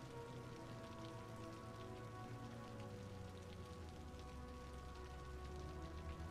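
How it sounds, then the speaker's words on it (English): Rain effects in the city-building video game Cities: Skylines, a soft continuous patter of rain on surfaces with a faint low hum beneath, steady and quiet throughout. "Driving through the kind of odd rain effects."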